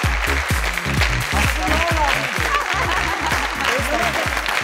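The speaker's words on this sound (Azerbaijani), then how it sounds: "Alqışlar." A studio audience at a quiz show breaks into sustained applause, dense rhythmic clapping close and loud, with some voices and light laughter mixed in.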